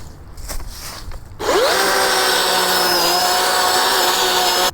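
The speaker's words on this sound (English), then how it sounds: "We're gonna take the electric chainsaw" An electric chainsaw cutting brush revs up sharply and runs at a steady high whine for several seconds, loud and close, after quieter rustling at the start.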